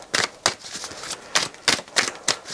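Tarot cards being shuffled by hand, a run of sharp crisp riffling bursts at irregular intervals, close and fairly loud, with no talk.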